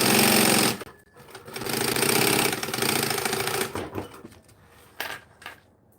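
A sewing machine runs fast while joining layers of fabric, a loud buzzing rattle in bursts with brief stops and a final short burst, no talk.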